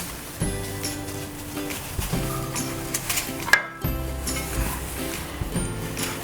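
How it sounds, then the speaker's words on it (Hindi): Olive oil and marinade being stirred together in a bowl, giving soft stirring and scraping with light clinks of utensil on the bowl, steady and close, no talking. "दोबारा से मिक्स कर लिया।"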